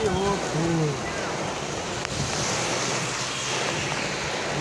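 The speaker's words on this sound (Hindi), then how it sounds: "इतनी जोर आंधी बारिश हो रही है आज।" Steady roaring wind with a broad wash of rain-like noise, loud and continuous, with brief voices and a few tonal calls early on.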